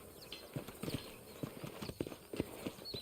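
Horse hooves clip-clop in the video game Red Dead Redemption, a steady, fairly quiet trotting rhythm of soft thuds over a low ambient hum, with no talk.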